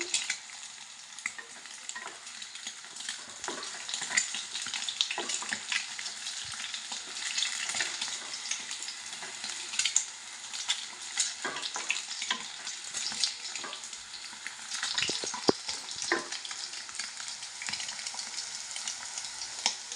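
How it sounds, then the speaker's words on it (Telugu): Eggs fry in oil in a pan for an egg fry with coconut chilli powder, a steady broadband sizzle with crackles and occasional stirring scrapes throughout, close and continuous with no talk. "నూనెలో వేసిన తర్వాత అన్ని సైడ్లు వేగాలండి గుడ్డు."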